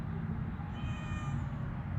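A cat lets out one drawn, mournful meow partway through, fairly faint against a steady low background rumble, with no voices.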